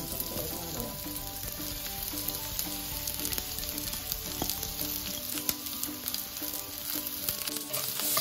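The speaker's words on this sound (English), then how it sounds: "Stir fry it until it turns lightly brown color." Ginger, lemongrass, shallots and garlic stir-fry in hot oil in a wok over medium heat, a loud, constant close sizzle with faint stirring scrapes running throughout.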